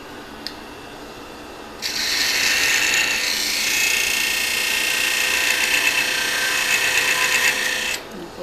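A wide parting tool cuts into mesquite wood spinning on a lathe, a loud steady rasping scrape that starts after a quiet moment and runs for about six seconds before stopping abruptly.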